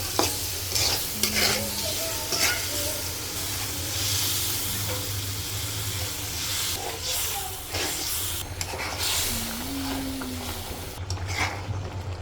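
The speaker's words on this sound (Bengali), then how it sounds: "এই তো আমার হলুদ মরিচ কষাইতেছি এখানে" Turmeric, chili and lentils fried and stirred in a pan, with a soft continuous sizzle under intermittent scraping of a spoon, some faint background hum and brief distant voices.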